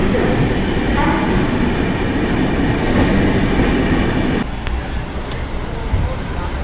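A passenger train rolling into Ghaziabad station, a steady loud rumble of wheels and carriage noise that drops slightly as it slows, close up, with a few metallic clicks near the end.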